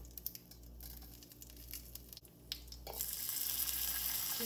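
Cumin seeds and dry Kashmiri chili crackle in hot oil for a cabbage and potato dish, a faint patter that bursts into a louder, fuller sizzle near the end.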